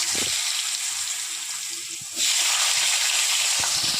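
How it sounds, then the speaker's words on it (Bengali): Potato pieces fry in hot oil seasoned with panch phoron and bay leaves, a loud continuous sizzle that surges sharply midway as the potatoes go in, with faint clinks of a utensil. "আলুটা ভেজে দিলাম।"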